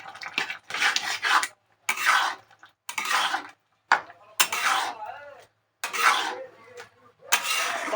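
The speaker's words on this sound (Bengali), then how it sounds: "এবার আমি কিন্তু ভুনাটের মধ্যে দিয়ে দেব দিয়ে এটাকে বেশ ভালোভাবে নেড়ে দেবো" Bhuna ghugni curry being stirred in a pan, heard as a series of rough, rasping scrapes in bursts of about a second with short pauses between them, fairly close.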